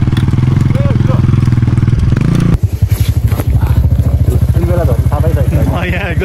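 Motorcycle engine chugging steadily up close on a rough mountain trail toward a snowy lake trek, with a sharp jolt partway through and rattling clatter from the bumpy ride after it; voices talk over the engine noise.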